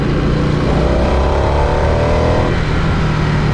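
A 2023 Harley-Davidson Nightster Special motorcycle engine revs hard on the throttle, a loud, steady roar heard from close by with no pauses.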